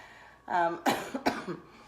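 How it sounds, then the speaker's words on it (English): Someone coughs a few times in quick succession close by, short harsh bursts followed by a softer throat sound. "Still dealing with my cough."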